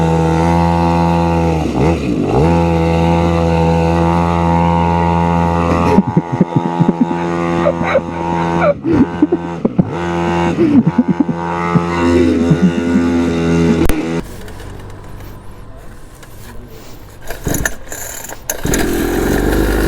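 A mini two-stroke dirt bike engine revs up close and loud, its buzzing pitch climbing and dropping in repeated throttle blips before settling into rougher, quieter running with scattered mechanical clatter.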